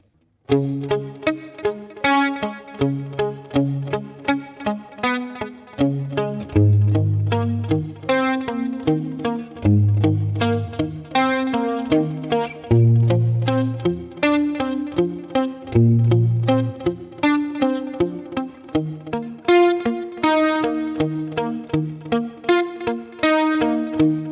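A heavily distorted electric guitar plays a chugging riff of repeated power chords and single notes, loud and continuous with no voices.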